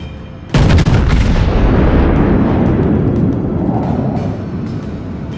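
A warship's heavy guns fire in a naval video game: one loud, sharp blast followed by a long, rolling rumble that fades slowly over several seconds.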